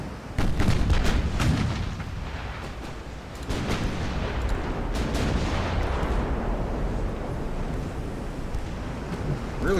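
Naval guns boom in a pitched sea battle from Ultimate Admiral: Dreadnoughts, a rapid cluster of loud heavy shots early on and scattered blasts after, over a continuous rush of ocean waves and wind.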